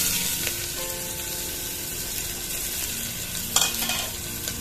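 A small onion frying in hot oil over crackled cumin, a continuous close sizzle with a faint hum and a short burst of scraping near the end, no speech.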